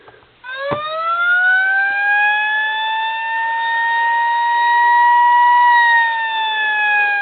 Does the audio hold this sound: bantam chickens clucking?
no